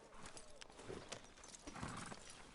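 Horse hooves clip-clop in Red Dead Redemption 2, a quiet, continuous trot with a soft snort, set under faint ambient game sound.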